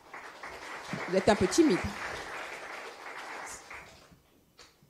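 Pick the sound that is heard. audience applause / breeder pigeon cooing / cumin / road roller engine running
audience applause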